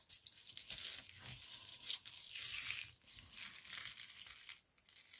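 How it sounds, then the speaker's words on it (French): Thin transfer paper backing is peeled slowly off a T-shirt design, giving soft crinkling and tearing rustles in uneven bursts, close and quiet, with no talk. "décoller toute la partie dont j'ai pas besoin"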